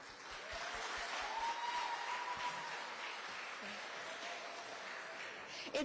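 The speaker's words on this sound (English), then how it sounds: "Big round of applause for our stage help." An audience at a youth fair pageant in Berkeley County applauds for the stage helpers, with steady, moderately distant clapping that holds for several seconds and a faint voice underneath.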